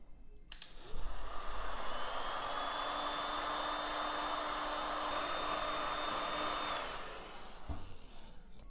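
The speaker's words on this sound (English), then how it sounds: "You can then use the heat gun to seal." A heat gun blows on heat shrink over the end of RGB neon flex, a steady airy roar with a faint high whine starting after a click and cutting off after about six seconds, close by and without speech.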